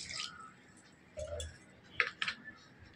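Malpua batter for Janmashtami is mixed in a bowl with water added a little at a time, making faint, close wet squishes and a few soft clinks against the bowl.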